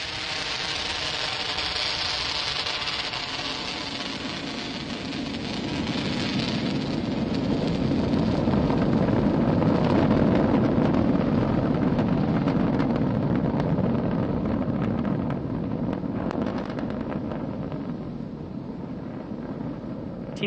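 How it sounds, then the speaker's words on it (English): A SpaceX Falcon 9 with nine Merlin 1D engines lifts off from Launch Complex 39A at Kennedy Space Center, a sustained, loud, broadband roar that swells toward the middle and then fades slightly, heard from a distance with no voices. "successful liftoff of the Falcon 9 from Launch Complex 39A at the Kennedy Space Center"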